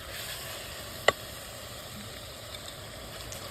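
Tomato gravy sizzles in hot oil in a pan, a faint, steady hiss of frying that runs throughout and is broken once by a brief sharp click, with no talking.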